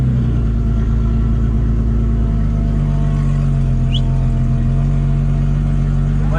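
Turbocharged Toyota Supra cruising on the road, a loud, steady low engine drone with constant rumble and road noise throughout, no voices.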